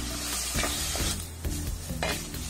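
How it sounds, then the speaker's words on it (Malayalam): Onions with salt sauté in a hot pan, a steady loud sizzle running throughout while a spatula stirs and scrapes in repeated strokes about every half second, close up and without speech. "സവാള ഇപ്പോൾ ഒന്ന് വഴന്ന് വന്നിട്ടുണ്ട്."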